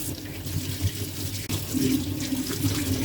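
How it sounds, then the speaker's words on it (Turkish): Mackerel being rinsed under a running kitchen tap, a continuous close splash of water over fish in a sink, with steady flow throughout. "Şöyle güzelce yıkıyorum balıklarımı."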